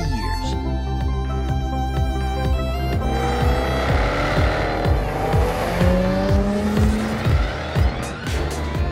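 A new Jaguar F-Type two-seater sports car on a test drive in northern Spain, its engine growling loudly and rising and falling through gear changes, with rapid revving sweeps and some tyre noise.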